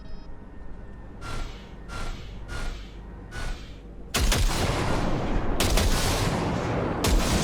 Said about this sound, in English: See that pile of junk? Fire a short burst into it.